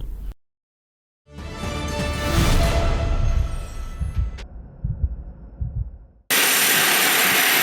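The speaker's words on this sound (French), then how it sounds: "L'avion transportant la ministre du Genre, Famille et Enfants, Micheline Ombaye-Kalama, a atterri sur la piste d'atterrissage de l'aérodrome d'Inongo" A small passenger plane lands on the runway of a provincial airfield, its engine roar building loudly and then easing over several seconds before an abrupt cut to a different steady noise.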